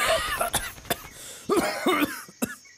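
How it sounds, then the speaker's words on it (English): Several short, sharp coughs in irregular bursts, fairly close, with a throaty clearing sound between them and no talking. "Cough?"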